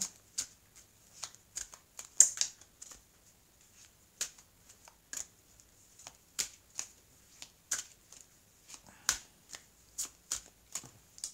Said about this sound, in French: je vais couper, puis je vais étaler les cartes